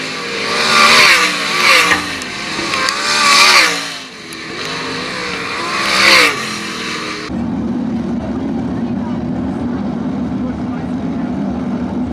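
Race cars at Attica Raceway Park during a heat race, with engine drone carried under a loud announcer's commentary before giving way to a steady, continuous roar of cars on the track.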